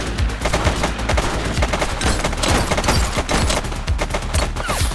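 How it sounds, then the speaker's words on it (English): Gunfire in the police game The Precinct crackles in loud, dense bursts of rapid shots close by, with a few heavier booms mixed into the volley. "He's shooting!"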